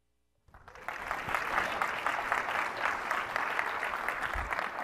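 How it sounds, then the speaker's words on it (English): Conference audience applauding a speaker's arrival on stage, sudden after near silence, then a sustained dense wash of clapping from a large crowd, steady and loud. "Why are you even clapping?"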